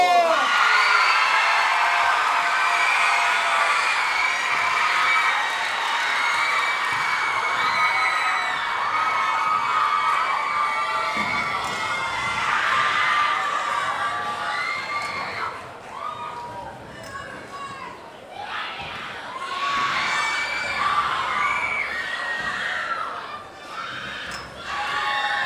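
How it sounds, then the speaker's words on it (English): Audience at a junior thespian district closing ceremony cheers and shouts loudly, with whoops and excited children's voices over a crowd roar that dips briefly midway and swells again. "let's give our last performance the biggest round of applause you can possibly give"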